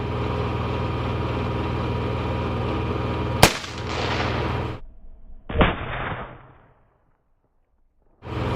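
An AR-15 rifle fires once at a cast iron pan, a sharp, loud crack over an idling engine hum, followed by a second impact-like burst and then silence.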